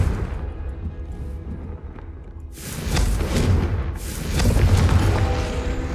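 A Confringo fire spell explodes in the video game Hogwarts Legacy, landing as a deep booming blast that swells midway and rolls into a second heavy burst, loud and close with no talking.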